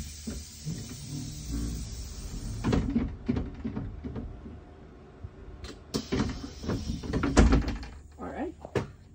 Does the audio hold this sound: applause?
no